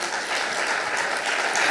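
An audience at a JoomlaDay conference in Florence applauds, a dense, steady wash of clapping heard without voices.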